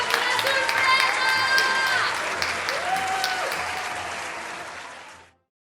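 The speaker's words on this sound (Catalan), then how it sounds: "Montserrat Xavier, un fort aplaudiment, sisplau!" Audience applause and cheering for skaters at a school festival show, a dense burst of clapping with whoops and a few raised voices, loud and sustained for about five seconds before stopping abruptly.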